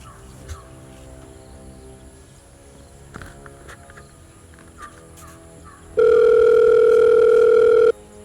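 A telephone dial tone comes in suddenly, steady and loud for about two seconds near the end, after quiet background noise with faint knocks and footsteps, in a comedy sketch about a land broker making a phone call.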